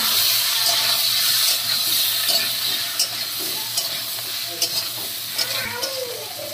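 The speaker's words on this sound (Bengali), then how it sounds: "লঙ্কার গুঁড়ো দিয়ে এবার আমি ভালো করে নেড়ে চেড়ে নেব" Ginger paste and slit green chillies fry with chilli powder in a pan, a loud steady sizzle with occasional spoon scrapes and clinks as the mix is stirred, close up and without speech.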